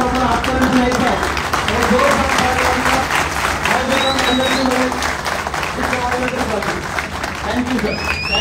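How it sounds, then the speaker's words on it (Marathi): Audience applause at a photo and video expo business session fills the hall in a steady, dense patter, with a voice speaking over it throughout. "आपण स्वतःसाठी पण एका टाळ्या वाजूया"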